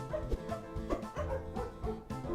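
In Majotori, a video game, a dog howls at the moon in several repeated wavering calls over layered game music, each cry rising and falling in a loose rhythm.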